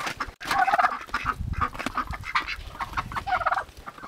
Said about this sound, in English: The ducks are very loud, right?